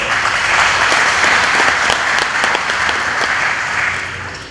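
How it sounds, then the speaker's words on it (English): An audience at an inauguration ceremony gives a round of applause for the construction overseer of a school building program, a loud, sustained, dense clapping that fades slightly at the end. "He deserves a round of applause as well."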